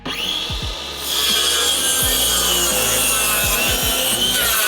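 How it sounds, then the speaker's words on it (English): Wood being sawn by hand for a cabin's wall frame, a steady scraping rasp of blade strokes that grows louder after the first second and carries on close by, with a few dull knocks mixed in. "A circular saw and an axe, which I used to chop out the extra bits of wood, handle this task perfectly."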